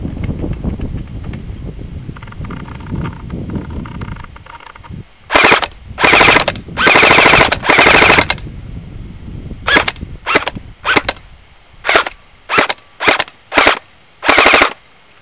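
An ICS MP5 airsoft gun fires in rapid full-auto bursts, a series of sharp rattling volleys separated by short pauses, with wind noise before the shooting on a windy day.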